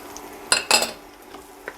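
Chopped garlic hitting hot oil in a pan over moderate heat, a couple of sharp sizzling bursts with light scraping and stirring of a utensil, otherwise quiet.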